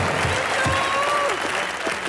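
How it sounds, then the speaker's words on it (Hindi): A studio audience at a comedy show applauds steadily and loudly throughout, a dense wash of clapping with a little crowd noise. "जोरदार तालियां एक बार।"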